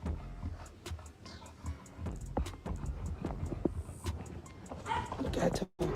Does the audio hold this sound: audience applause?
no